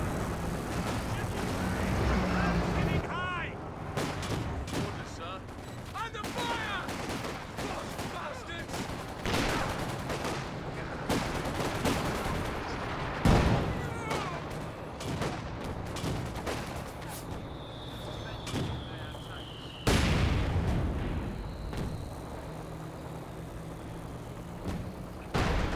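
Panther tank cannon shots amid a battle in the video game Company of Heroes 2, with scattered booms and gunfire throughout and a couple of sharp blasts standing out, under continuous commentary talk.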